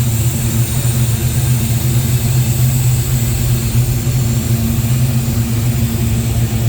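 A 1948 Ford Deluxe five-window coupe with a 350 engine, headers and dual exhaust idles smoothly, a deep, steady, even rumble heard close and loud for several seconds with no voices.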